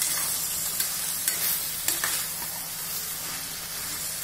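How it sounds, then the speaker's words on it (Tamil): Chicken masala with fresh lemon juice sizzles in a pan, a dense continuous frying hiss with a few light scrapes as it is stirred. "எலுமிச்சம்பழத்தை போட்டுட்டு நல்லா கிண்டி விடலாம்"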